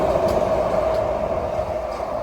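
A Miami Metrorail train rumbles past close by, a steady loud roar of wheels on rail with a sustained whining tone riding on top, continuous for the whole stretch.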